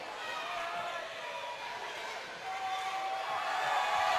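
Loud crowd noise fills a high school boys basketball gym as a player steps to the free throw line, a steady roar of many voices rising slightly toward the end.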